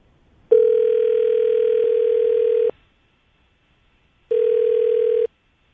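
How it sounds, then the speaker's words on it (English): A steady telephone dial tone hums for about two seconds, stops, then returns briefly for another second before cutting off. "We're going to call her right now, get her on the phone"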